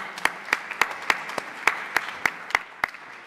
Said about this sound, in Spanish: Le damos de nuevo este fuerte aplauso.